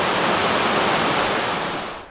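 A waterfall beside a hiking trail on an active Japanese volcano gives a steady, loud, close roar of rushing, splashing water. It stays even throughout and eases slightly at the very end, with no voices.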